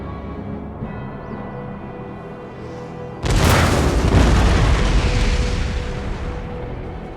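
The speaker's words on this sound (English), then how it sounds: "Artillery!" Artillery cannon fire in the video game Empire: Total War: a sudden heavy boom opens a loud, rumbling barrage that rolls on for several seconds after a quieter stretch of battle ambience.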